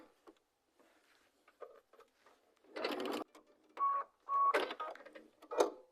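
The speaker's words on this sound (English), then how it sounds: "I'm going to sew a 1/4 inch seam away from that drawn line." Sewing machine stitching a quarter-inch seam on quilt squares, running in short bursts with pauses between, close and fairly loud, with faint beeps and handling clatter.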